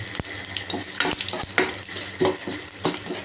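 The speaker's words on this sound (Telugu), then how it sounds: "ఈ తాలింపు గింజలన్నీ వేసుకోవాలి వేసి ఫ్రై చేసుకోవాలి" Tempering seeds frying in hot oil for a coconut chutney, a close crackling sizzle punctuated by sharp pops and spattering bursts at irregular intervals.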